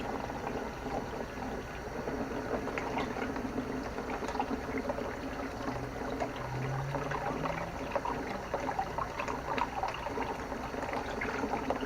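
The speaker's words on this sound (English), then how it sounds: "Slowly, water runs slowly." Water trickles and bubbles softly at close range into a container while rinsing salmon roe, a quiet continuous flow with small gurgles.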